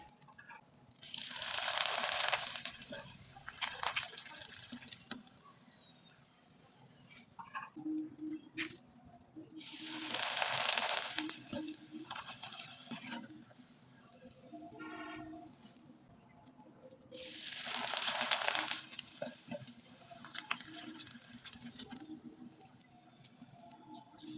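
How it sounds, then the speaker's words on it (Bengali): Dried jhikimiki pitha fry in hot oil in three separate loud bursts of bubbling hiss, each fading to a quieter crackle between batches, close by with no speech. "এখন কয়েকটা পিঠা আমি তেলে ভেজে দেখিয়ে দিচ্ছি"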